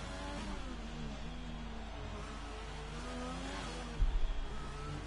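A Renault Formula race car engine in a racing video game on the Singapore circuit, a steady high whining drone holding at constant level, with a brief rougher burst near the end.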